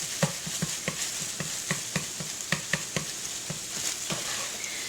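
Sausage frying in a pan for gravy, sizzling steadily while a utensil scrapes and stirs in a regular rhythm of sharp, close strokes, with no talking.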